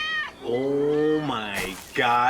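A cat meows loudly and close by, two or three drawn-out, wavering meows in quick succession, with a person briefly exclaiming between them.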